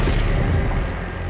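Heavy, sustained low rumble of a bomb blast and fire from a WWII air attack on German Tiger tanks and a cannon position in the mountains, loud and dense throughout with no talk.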